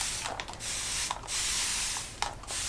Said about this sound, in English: I'll go ahead and start spraying it with my starch